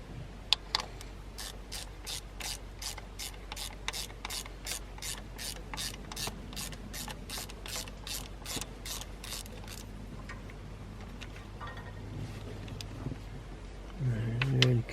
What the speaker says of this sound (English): Get that bolt out of that one, then I'll put a pry bar pointer to come out.